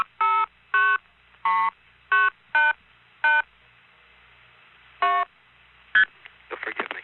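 A long-distance number is dialed on a telephone keypad: about eight clear DTMF tone bursts in an uneven rhythm with short gaps, followed by a brief burbling line sound.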